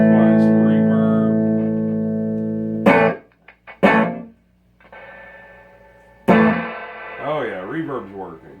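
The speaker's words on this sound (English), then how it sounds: "Oh yeah, reverb's working." A Fender Twin amplifier's reverb, set around 5: sustained electric guitar chords ring out with a long reverberant tail, then sharp strummed hits decay with a wavering, washy echo.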